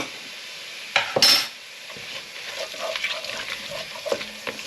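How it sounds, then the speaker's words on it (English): Onion and chillies fry in a pan for a beef ragu, giving a steady close sizzle, with a brief burst of utensil clatter near the start. "And then we'll just let that fry."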